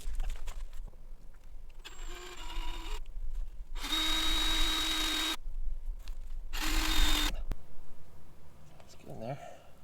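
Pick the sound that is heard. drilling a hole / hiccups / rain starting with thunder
drilling a hole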